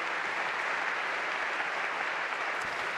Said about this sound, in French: Applaudissez-les, je vous les présente dans un instant.